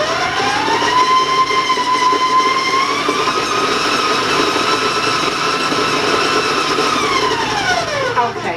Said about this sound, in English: So I'm going to turn on my mixer.